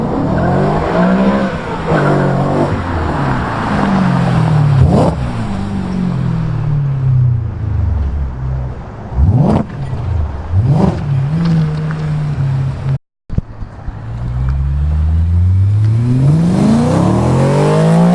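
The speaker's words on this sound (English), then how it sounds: "the car sounds completely different without its cats" Modified 2008 BMW E92 M3 with no catalytic converters, its engine and exhaust revving hard and rising and falling through the gears, loud and raw throughout, with a brief dropout near the end and no talk over it.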